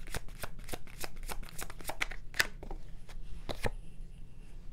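Tarot cards are shuffled and drawn in a quiet room, with a quick run of crisp, close flicks and slaps, then a few separate snaps as cards are pulled.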